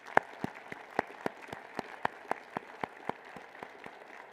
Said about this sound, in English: Round of applause for all those who brought you to this point.